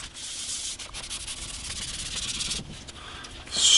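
A rag rubs stain briskly back and forth over guitar wood in continuous strokes, with a short pause and then a louder swipe at the end.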